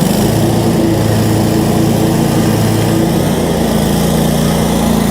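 Kioti stand-on mower with the PTO engaged and blades spinning, a loud, steady engine and blade drone with a constant low hum, close up and uninterrupted with no voices.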